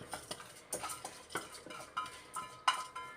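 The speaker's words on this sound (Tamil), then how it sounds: "இதை லைட்டாக ஒரு கிண்டி விட்டுக்கிட்டு பார்த்துருவோம்." Drained soaked rice being stirred into boiling water for prawn biryani, soft irregular scrapes and clinks of a spoon against the pot, fairly quiet and close, with no voices.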